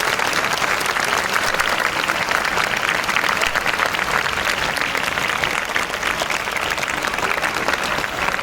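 School audience at an Independence Day celebration giving loud, sustained applause to welcome a teacher, dense clapping throughout with faint crowd murmur.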